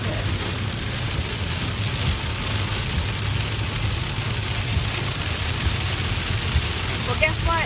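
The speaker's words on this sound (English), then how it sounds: "Well, guess what? It's all raining." Heavy rain pounds a car driving through a Texas storm, a dense steady roar with a deep low rumble throughout, and a voice talks briefly near the end.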